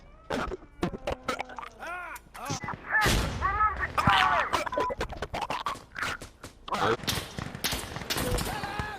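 Gunfire in the tactical shooter Insurgency, with sharp repeated shots and bursts rising and falling over about nine seconds, mixed with scrapes, distant battle noise and cries.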